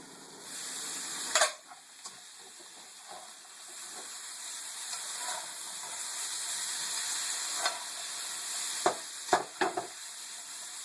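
Yellow squash and vegetables frying in a pan: a constant bright sizzle and hiss, with occasional sharp clatters and stirring knocks scattered across the sound, loudest in a cluster near the end.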